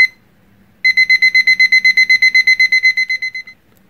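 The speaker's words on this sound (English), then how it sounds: "I'm going to set a timer for" A kitchen timer beeps as it is set, about twenty evenly spaced, loud electronic beeps in a steady run that fade slightly at the end, with no talking.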